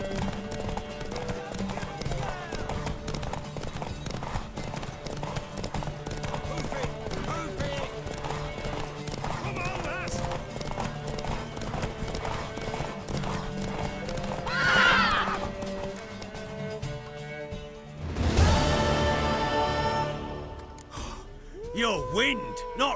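Hooves clip-clop steadily under a bed of music and voices, with a horse neighing loudly near the end, in the video game The Witcher 3: Wild Hunt.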